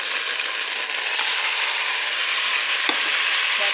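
Beef sizzles steadily in a hot pan as it fries, a dense continuous crackle with a few brief clinks of a utensil stirring; close and fairly loud, with no talking.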